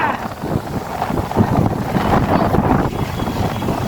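Strong wind on a beach buffets the microphone in a steady, roaring rush, with faint voices underneath.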